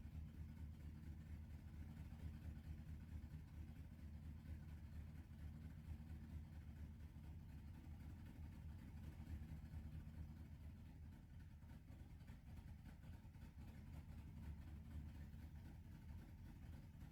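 A 1982 Chevy Camaro engine idles with a steady, low rumbling drone, faint and continuous throughout with no speech.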